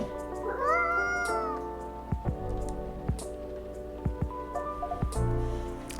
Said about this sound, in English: Maybe it's just a cat.